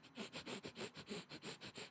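Quick, rhythmic panting breaths from a puppy, about ten short huffs in under two seconds, close and soft.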